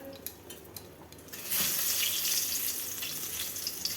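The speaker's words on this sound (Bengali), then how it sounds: "এই সাইডে যে বেগুন ভাজছি এখন আমি।" Brinjal slices fry in a pan, first a low crackle, then a loud hissing sizzle swelling suddenly, like fresh pieces hitting hot oil, continuing steadily close by.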